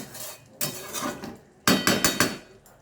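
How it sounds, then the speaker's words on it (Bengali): A metal lid set onto a pot of cooking mutton, giving several sharp clanks and rattles in two clusters, close and clear with no talk. "আঁচটা কমিয়ে এখন আমি ঢাকা দিয়ে দেব।"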